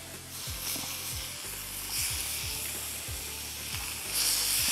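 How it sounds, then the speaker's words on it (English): Octopus pieces hit a very hot griddle and burst into loud, steady sizzling, with crackling hiss and a few low thumps as pieces are set down, all close and continuous without talk. "I'm gonna put these things right on our very, very hot griddle here"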